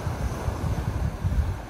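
Light Black Sea swell at Sochi washes in a soft, continuous surf with low rumbling surges, mixed with wind buffeting the microphone, no voices present.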